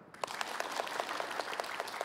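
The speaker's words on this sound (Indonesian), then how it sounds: "Mana tepuk tangannya?" A crowd applauds in a short burst of dense, overlapping hand claps, moderately loud and steady.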